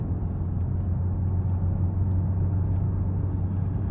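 A 2026 Hyundai Santa Fe Hybrid AWD Calligraphy accelerates gently in eco mode, heard from inside the cabin as a low, steady engine and road rumble with a soft, even hum and no talking.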